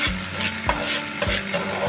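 Coarsely chopped garlic and onion fry in oil in a pan, a close steady sizzle with a few scraping stirs of a spoon against the pan at regular intervals, no voices.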